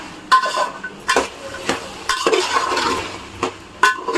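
Peas, beans, capsicum and carrot being stirred in a pan for veg biryani, repeated sharp spoon scrapes and knocks against the metal over a soft sizzle, close and fairly loud.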